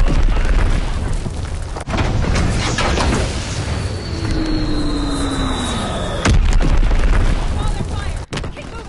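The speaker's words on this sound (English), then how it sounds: "bomb incoming! Get to cover!" Booming bomb blasts in World War 2 multiplayer, several heavy explosions thudding amid roaring battle noise and a whining aircraft pass, loud and close, with a player shouting over the chaos.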